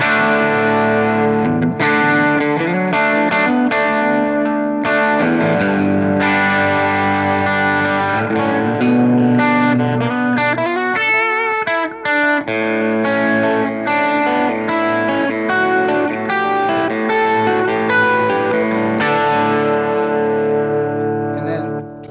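Distorted electric guitar played through a Walrus Audio ARP delay pedal: sustained, saturated lead notes and runs trail into repeating echoes, loud and continuous for over twenty seconds.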